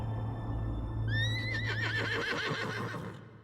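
A horse whinnies loudly and close in the video game Metal Gear Solid Delta, a long wavering neigh lasting a couple of seconds over a low steady hum.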